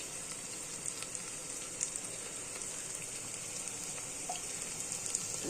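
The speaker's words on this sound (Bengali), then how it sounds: "আর এই পেঁয়াজ ভাজার সাথে আমি একটু ঘি দিয়ে দিলাম।" Onions frying in oil with a spoonful of ghee, giving a continuous crackling sizzle with small pops, close up, quiet and alone with no one speaking.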